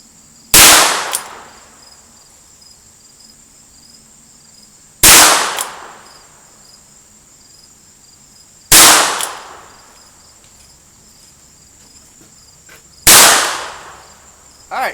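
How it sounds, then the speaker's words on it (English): Four loud, sharp single-action shots from a Taurus Tracker 990 .22lr revolver, spaced roughly four seconds apart, each with a brief decaying tail and near-silence between, over steady high insect-like background noise. "But I'll fire a single action here at the bottom right target."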